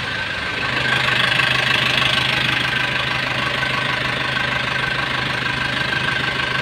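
A vehicle engine idling on its first start after sitting unused for four years, a steady close rumble with a faint knock and an even hum throughout.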